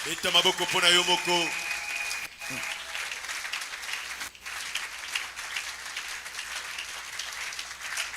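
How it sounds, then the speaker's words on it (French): A church congregation applauds and cheers during a Pentecostal sermon, with broad crowd noise, shouts and voices throughout, loud at the start and continuing as a steady roar. "Acclame pour toi-même."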